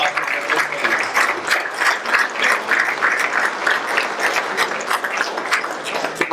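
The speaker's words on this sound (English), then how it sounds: "Let's give them a round of applause." An audience at a town candidate forum bursts into sustained applause, a dense, steady roar of many clapping hands that holds at an even level throughout.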